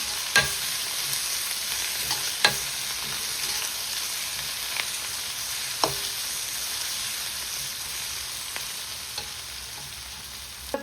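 Onion with curry leaves and green chili stir-fries in a pan, a steady soft sizzle under occasional sharp clicks of a spoon against the pan.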